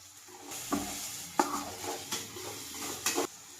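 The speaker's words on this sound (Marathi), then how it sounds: "आता मी त्याच्यात हिरवी मिरची ऍड करत आहे. आता याला मिक्स करून घेणार आहे मी." Onion and green chili frying in a pan for masala pasta, stirred in several distinct scraping strokes with light metallic clinks over a soft, quiet sizzle.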